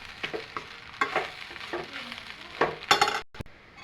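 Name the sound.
mixing uggani in a pan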